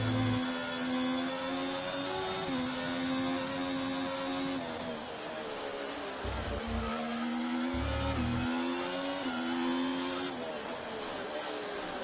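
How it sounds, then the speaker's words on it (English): A Ferrari Formula 1 car engine in the racing game F1 24 drones loudly and continuously, its muffled pitch stepping up through gears, dipping briefly and climbing again. "this Ferrari engine sounds like the bloody F1 2018 noises"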